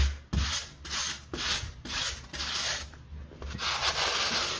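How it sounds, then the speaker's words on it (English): The edge of a trowel presses and smears grout into tile joints on a shower surround, a series of rhythmic scraping, rubbing strokes, close and moderately loud, with no talking. "I'm just gonna use the edge of my trowel here to smash the grout into the line"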